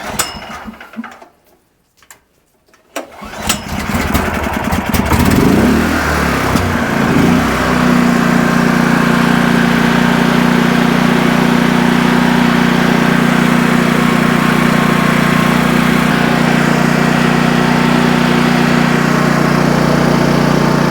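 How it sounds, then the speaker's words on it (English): A tri-fuel generator running on gasoline is pull-cord started, with a few seconds of quiet and cranking noise before the engine catches and settles into a loud, steady, close idle hum that continues alone. "Next, I'm going to start the unit with the pull cord."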